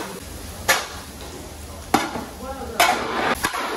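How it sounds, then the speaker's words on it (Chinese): A large batch of about 300 jin of meat is stir-fried in a giant wok for a Henan Puyang big-pot dish, with a steady sizzle broken by three or four sharp scraping and clanking strokes of the turning tool. "300斤的肉同时在锅里，老大一个人在翻炒啊"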